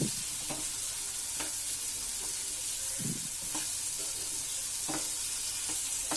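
Eggplant, potato and pea vegetable mix being stir-fried with salt in a pan: continuous sizzle broken by a few sharp spatula scrapes and clinks, close and steady, with no talking.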